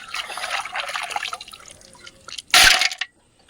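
River clams being rinsed in water, close up: soft sloshing and dripping, then a short, louder splash before the sound stops.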